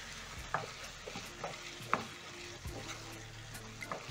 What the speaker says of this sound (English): Stir in the coriander.